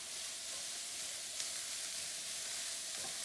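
Cauliflower taco filling sizzles in a pan while being stirred, a steady soft hiss of frying with faint scraping, continuous and fairly quiet.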